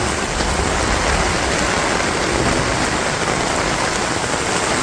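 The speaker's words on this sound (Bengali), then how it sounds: "বৃষ্টি একটু কমে গেছে, কমে গেছে বলতে কি কমো না বৃষ্টি।" Heavy rain pours down steadily, a dense, loud roar of drops drumming on surfaces with no letup.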